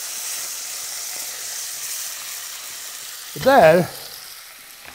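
Beef browning for goulash soup sizzles steadily in a very hot pan, a close continuous hiss of frying with a short spoken word near the end.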